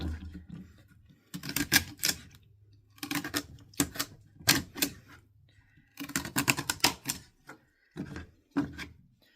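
A kitchen knife chops vegetables on a cutting board for chicken broth, coarse chopping heard as close, sharp bursts of rapid knocks separated by short pauses, with no talking.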